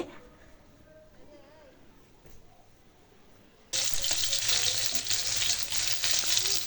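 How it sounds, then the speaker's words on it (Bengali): Hilsa fish frying in a pan: quiet room sounds and a voice, then a sudden loud, dense oil sizzle that holds steady and close to the end. "আর এই যে রাত্রের জন্য ইলিশ মাছ ভাজি করতেছি"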